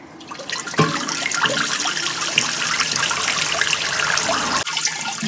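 Water pours steadily into a garden water butt, a loud continuous splashing trickle that starts abruptly and runs on close by, with a brief break near the end; no one speaks.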